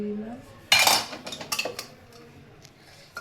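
Eggs dropped into a pot of homemade biryani layered with rice and mutton make a sudden clattering knock, followed by a few lighter utensil clinks against the pot, close and without talk.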